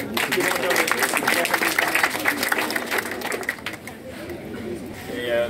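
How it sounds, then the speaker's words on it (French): A school crowd applauds the jury steadily, dense clapping filling the space, with some chatter mixed in, then thinning slightly toward the end. "maximum d'applaudissements pour les membres du jury"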